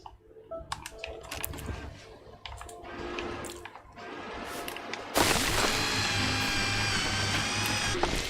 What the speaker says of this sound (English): The drill going through a hard resource, though, is an astoundingly good noise